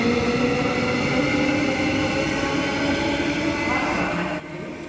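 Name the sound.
non-service train passing Joondalup station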